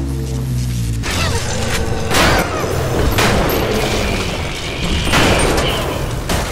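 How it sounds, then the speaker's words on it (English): Booming shotgun blasts with exploding buckshot in BioShock, several heavy reports spaced about a second apart over a constant rumbling, mechanical game ambience, loud and close. "let's have some exploding buck,"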